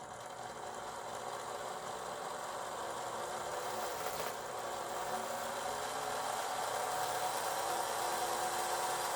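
The motor of a 1973 Mattel VertiBird toy helicopter runs at about half throttle, giving a steady buzzing whir with a slight rise in level partway through.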